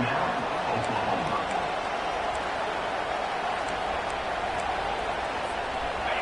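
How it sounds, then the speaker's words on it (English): A stadium crowd roars loudly and steadily during a football third-down play, a dense continuous wall of cheering with a commentator talking over it. "Decibels rising as the crowd gets behind this defense on third down."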